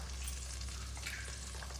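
A ground paste of tomato, onion and green chili with turmeric and dry spice powders fries in a pan for paneer kofta curry, making a quiet, steady hiss of sizzling oil.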